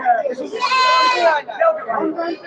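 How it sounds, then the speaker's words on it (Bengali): Black Bengal goats at a busy Sunday goat market give loud, wavering bleats, one long cry standing out near the middle, over a murmur of nearby voices. "কত ছাগল"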